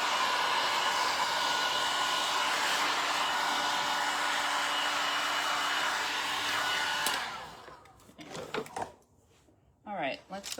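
A heat gun blows steadily and loudly for about seven seconds while a shabby chic resin rose tag made from moulds is heat set, then shuts off, leaving quiet handling clatter and a few faint knocks.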